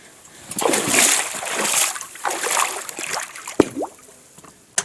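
Water sloshing and splashing out of a bucket filled at a fast spring creek, with bursts of splatter and trickling, then a sharp knock near the end; close and fairly loud outdoors.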